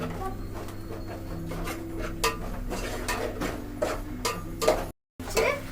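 A brinjal curry being stirred in a pan, with soft scraping and clinking of a utensil against the metal repeating through a low steady background hum, close and fairly quiet, with a brief dropout near the end.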